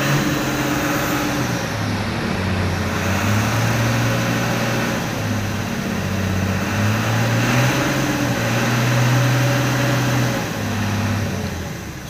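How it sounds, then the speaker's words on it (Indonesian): Diesel engine and exhaust of a 1992 Hino FF Super Ranger truck after it stalled on a climb, a steady rumbling drone with shifting low tones that holds loud and close throughout. "Suara mesinnya sangar, suara knalpotnya sangar."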